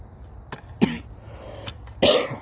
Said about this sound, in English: Excuse me again for the coughing